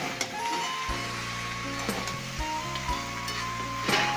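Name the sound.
cabbage with fish head frying and being stirred in a pan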